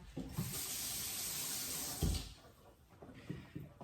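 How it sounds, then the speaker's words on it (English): An offset spatula used for spreading buttercream on a layer cake is rinsed under running tap water in a sink, with a steady close rush of water followed by a few short splashes and drips. "I'm going to put it in the water again."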